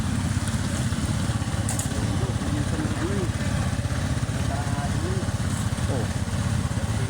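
A motorcycle engine runs at idle with a steady low rumble throughout, close to the microphone, with scattered faint background sounds.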